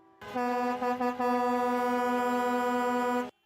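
Protesting trucks outside Parliament Hill blare a loud, sustained air horn, one long brassy blast after a brief stutter at the start, held for about three seconds before cutting off abruptly.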